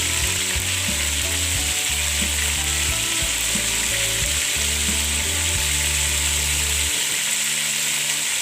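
Chicken pieces with chicken powder and garlic powder sizzle steadily and loudly in an oiled pan for chow mein, and irregular stirring and scraping sound beneath the hiss.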